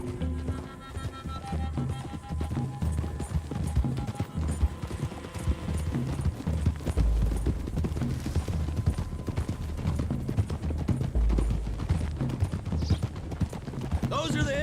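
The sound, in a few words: horses riding, from video game Red Dead Redemption 2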